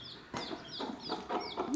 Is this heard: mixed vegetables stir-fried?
no